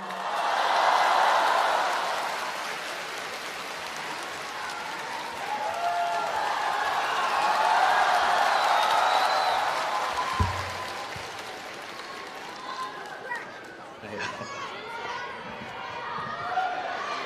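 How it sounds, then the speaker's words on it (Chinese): Audience applause at a live crosstalk comedy show with father and son performers on stage, a broad, steady wash of clapping that swells and holds for most of the stretch before thinning out, with a few thuds and stray voices near the end. "谢谢观众朋友们的热情掌声和鼓励啊！"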